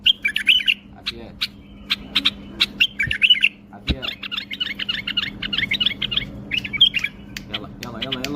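A pet bulbul singing close by, with rapid bursts of bright chirps and warbling phrases repeated throughout, over a low background hum and a couple of soft thumps.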